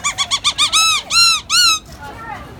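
A person mimics a monkey call with a quick run of high, squeaky whoops that speed up, then stretch into three longer, rising-and-falling cries, loud and close, ending in a faint trailing note.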